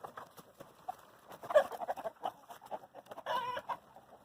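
Backyard chickens settling toward their roost cluck softly in short, scattered bursts, quiet and fairly close, with no talking.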